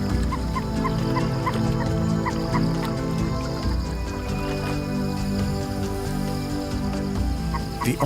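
Birdlike honks and clucking calls, attributed to an ostrich, repeat in short irregular bursts over a constant background hum, fairly close and moderately loud, with no talking.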